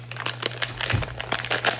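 Plastic blind box packaging for a Gideon's Bakehouse Loungefly mini backpack is torn open by hand, making dense, close crinkling and crackling bursts over a faint steady low hum, with no talking.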